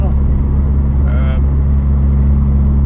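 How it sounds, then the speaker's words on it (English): A car engine idles with a deep, rumbling exhaust note, steady and loud throughout, with a brief rise in tone partway through, on a road at Lundie Craggs, Scotland. "If you like the sound of the deep exhaust, I would advise you put headphones on"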